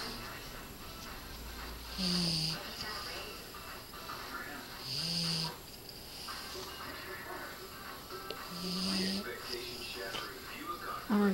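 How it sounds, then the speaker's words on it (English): A red Boston terrier snores indoors in slow, regular wheezing snorts, about four audible breaths spread evenly, faint and close against a steady background hiss. "I'm recording him snoring"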